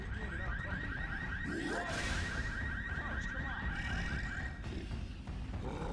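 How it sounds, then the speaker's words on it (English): A car alarm goes off in Left 4 Dead, a steady electronic wail held under a dense roar of gunfire and in-game noise. A commentator talks over it. "And an alarm car set off during the tank."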